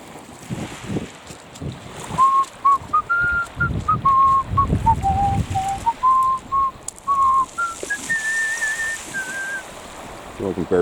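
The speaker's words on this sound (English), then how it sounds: "So I can barely whistle." A person whistles a wandering, breathy tune outdoors, fairly close, with gusting wind buffeting the microphone and faint speech in the background.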